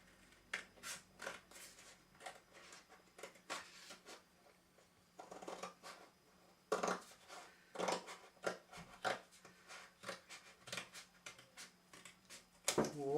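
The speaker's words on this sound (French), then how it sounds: "on va tout simplement le découper" Scissors snip through a traced, rounded cardboard shape in short bursts of cutting and rustling, fairly close and quiet, with pauses between strokes.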